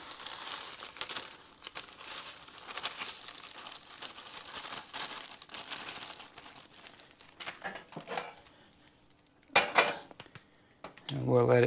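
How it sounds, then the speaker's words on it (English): Freeze-dried eggs tipped off trays into a big bowl, with light rustling and crumbling, soft scraping, and a few sharp metallic clanks of the trays near the end, partly under a voice. "I'll just get it dumped into this big bowl."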